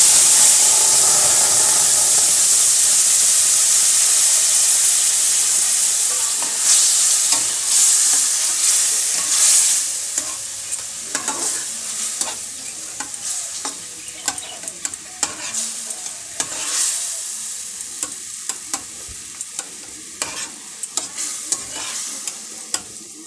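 Mangoes drop into a hot pan with dried chilli for a plastic chutney and sizzle loudly at first. The hiss fades into softer frying, broken by sharp scraping stirs, with no talking.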